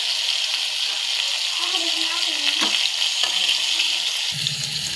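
Pointed gourd (potol) frying in a pan for potol chorchori, a steady hiss of sizzling oil with a few scraping stirs, a brief low clatter near the end.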